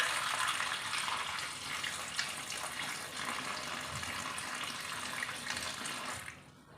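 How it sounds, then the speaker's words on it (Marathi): Water runs steadily over four Alphonso mangoes as they are rinsed, a continuous close splashing flow that stops abruptly at the end. "याच्यामध्ये पाणी घालून घेऊया"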